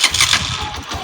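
A motorcycle engine catches with a loud, close start and settles into a steady running rumble within about a second.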